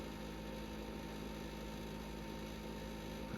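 A compressor cooler fridge runs inside a van, giving a faint, steady electric hum that stays even and unbroken throughout.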